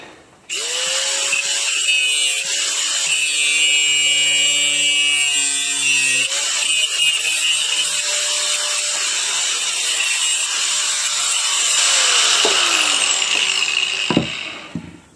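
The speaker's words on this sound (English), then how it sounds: "I'm going to go over and cut these a little bit shorter" A saw cuts barnwood pieces shorter for a frame: a sustained, loud mechanical whine with tonal harmonics runs almost continuously, shifting pitch mid-cut and ending with a sharp knock.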